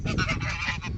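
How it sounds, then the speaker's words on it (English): Geese or ducks honk loudly and close by, a dense run of overlapping calls filling the whole second without pause, heard alone with no talk. "the duck got it again"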